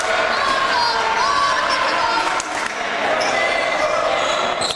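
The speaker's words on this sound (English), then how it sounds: "I haven't heard that cheering forever." Crowd noise at a high school basketball game, a sustained roar of cheering and shouting from the stands that holds steady throughout.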